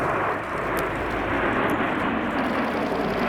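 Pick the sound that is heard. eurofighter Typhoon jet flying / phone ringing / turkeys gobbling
eurofighter Typhoon jet flying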